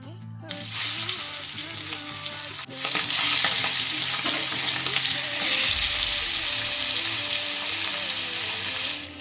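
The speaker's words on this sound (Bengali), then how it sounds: "এবারে আমি ইলিশ মাছের লেজা আর বেগুনগুলোকে ভেজে নেব" Hilsa fish tail and eggplant go into hot mustard oil and set off a loud, dense, continuous sizzle close up, which swells further after a sharp burst partway through.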